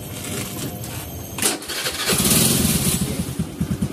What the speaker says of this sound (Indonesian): Jadi akan kita hidupkan motornya.